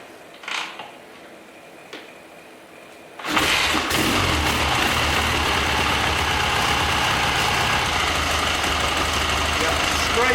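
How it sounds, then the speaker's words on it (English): A Triumph Bonneville T140 motorcycle engine catches after a few quiet clicks and settles into a steady, loud, close idle that runs uninterrupted to the end. "ignition on, kill switch on,"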